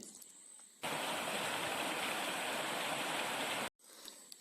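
A river stream flows through forest near Nilambur, a loud, steady broadband rush of water that starts abruptly, holds for about three seconds and cuts off, with quieter flowing water before and after.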